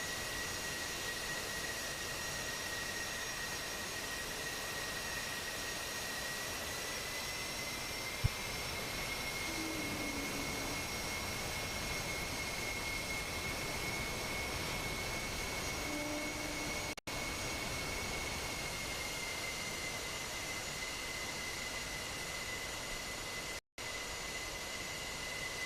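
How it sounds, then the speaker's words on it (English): F-14B, F-18C and Su-33 jets taxiing in a flight-simulation video game, a steady engine roar and whine holding constant throughout, with no talking. "F-14B and the F-18Cs and the Su-33 all taxiing down the runway"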